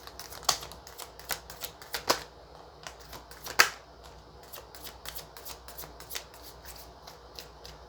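Tarot cards being shuffled for a reading, a run of quick papery slaps and riffles in irregular bursts, close but soft, with no talk over them.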